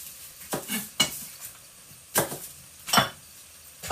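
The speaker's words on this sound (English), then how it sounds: "So I'm just going to put that half of onion into there." Half an onion going cut side down into a pan for Korean spicy beef noodle soup: a few sharp, close clinks and knocks of pan and utensil, spaced apart, with only a faint trace of sizzle and no talking.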